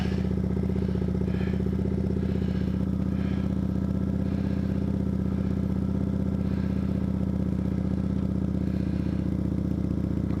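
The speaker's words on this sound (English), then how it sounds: "I ride a 2010 Kawasaki Vulcan 900" A 2010 Kawasaki Vulcan 900 motorcycle ridden on a chilly day, its engine holding a steady, loud, close droning rumble throughout with no pauses.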